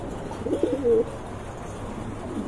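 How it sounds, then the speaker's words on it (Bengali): A pair of jet-black pigeons gives a short rolling coo near the middle, a brief, clear throaty burble over a quiet background hum. "এইখানে দেখতে পাচ্ছেন এক জোড়া ফিলব্যাক কবুতর, একদম ব্ল্যাক, কুচকুচে কালো"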